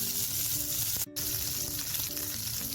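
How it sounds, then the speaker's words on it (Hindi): A cumin tempering in oil sizzles and crackles steadily up close as it is poured over vegetables, a dense frying hiss with a brief break in the middle. "ये तड़का अब इसके ऊपर डाल दीजिए।"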